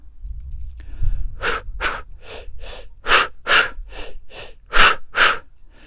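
A person breathes out freely with a relaxed jaw, giving a series of about ten soft, close breathy exhales in an even rhythm, each short and airy, preceded by a low rumble and no speech.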